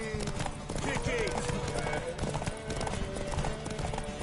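Steady clip-clop of galloping horse hooves in the video game The Witcher 3, with a horse whinny, music and shouted voices over the top.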